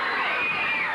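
A wrestling arena crowd hollers and cheers loudly and continuously, a dense wash of shouting voices filling the whole moment without letup.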